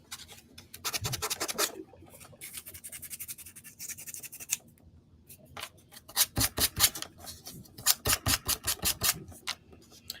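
Sandpaper rubs over a painted wooden sign in quick rhythmic back-and-forth strokes, close and scratchy, coming in several bursts with short pauses between them.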